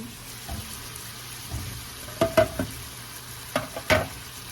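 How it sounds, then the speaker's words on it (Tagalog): Beef steak frying in a pan, a soft steady sizzle running under a few sharp scraping and stirring clatters near the mic. "we're gonna wait for frying a little bit and make it brown"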